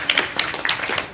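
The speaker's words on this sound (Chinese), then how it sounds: "来，我们现场所有人给大家给景瑜一些掌声好吗" A brief patter of clapping from an audience at a birthday celebration held during a drama's press event: a handful of quick, close claps in an uneven rhythm, with no voices.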